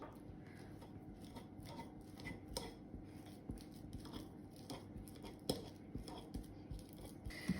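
Ripe bananas are mashed in a bowl for banana bread, giving quiet scraping and squelching rubs with faint clinks of utensil against the bowl, soft and close.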